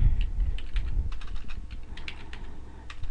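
Fingers type on a computer keyboard in a quick, uneven run of close, crisp clicks lasting a few seconds, with no talking.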